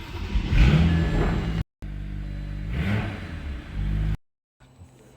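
A BMW 335i with an N54/N55 engine and a newly installed Walbro 450 fuel pump cranks, fires up and idles loudly up close, with a second run after a brief cut.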